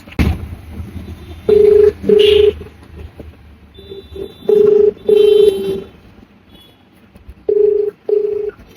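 A phone call rings out as repeated paired ringback tones in bursts with gaps between them, loud and close.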